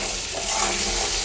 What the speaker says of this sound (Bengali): এবার আমি কিছুটা সময় ধরে একটু নেড়েচেড়ে আলুগুলোকে ভেজে নেব।